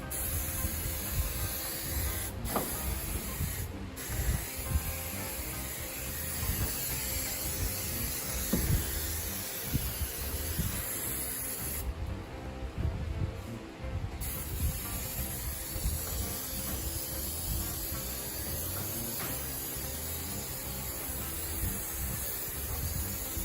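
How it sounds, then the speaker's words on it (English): Aerosol adhesive sprayed inside the rocker panel and onto carpet backing of a 1964 Ford Falcon, a close, steady hiss in repeated bursts with short pauses between passes. "We're going to spray inside the rocker here, spray the back of the carpets"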